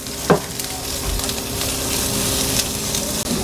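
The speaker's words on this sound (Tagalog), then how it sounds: "ilagay na natin yung sibuyas" A large white onion fries in a pan with a steady, close, broadband sizzle, opened by a brief clunk as it goes in and continuing evenly without talk.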